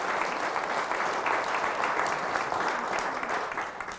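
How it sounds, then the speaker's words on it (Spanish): Enthusiastic applause from a church congregation during a sermon, a continuous wash of many hands clapping at moderate distance, easing slightly near the end. "Fuertes aplausos al Señor."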